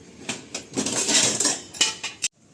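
Steel pots, pans and cutlery are scrubbed and washed by hand at home, making close, loud clanks and metallic scraping in irregular bursts, with a short sharp clatter before the sound stops.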